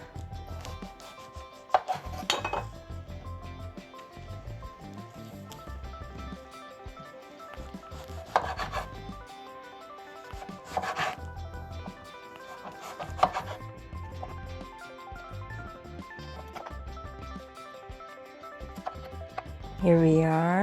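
A knife cuts zucchini on a cutting board in a kitchen, several dull thumps and slicing strokes at irregular intervals, close and fairly loud, over a quiet background with some muffled handling.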